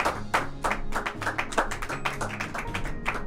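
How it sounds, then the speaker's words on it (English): An audience claps in a quick, steady burst of many hands, fairly close and lively, with brief speech faint underneath. "Let's not clap for the crime, folks."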